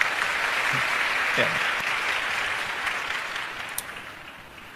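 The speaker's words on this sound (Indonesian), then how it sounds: "berikan tepuk tangan untuk beliau." Steady applause from the audience at a Ramadan religious lecture, a sustained round of clapping with a brief spoken interjection near the start.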